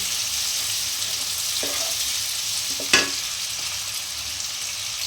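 Sliced onion fries lightly in a pan for soybean chilli, a steady even sizzle with a couple of soft clicks and one sharper scrape or clank near the middle.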